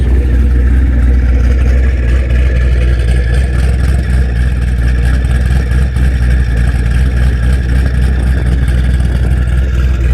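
A 2013 twin-turbo Chevrolet ZL1 with a stock-bottom-end LSA engine and no catalytic converters runs through its stock mufflers, giving a loud, steady, deep exhaust drone held up close for ten seconds without any talk.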